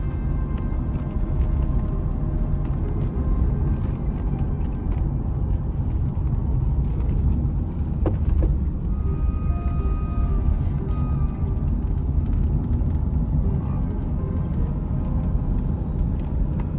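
A classic Jaguar XJS cruises toward Chatsworth House, a steady, smooth engine and road rumble heard from inside the car, continuous and moderately loud with no voices.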